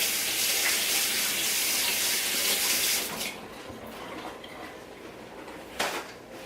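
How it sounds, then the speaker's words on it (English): Tap water runs steadily into a sink while hands are rinsed in a home kitchen, a close, even gush for three seconds that then drops to a quieter trickle and ends with a brief splash. "Let me get my hands rinsed off real quick."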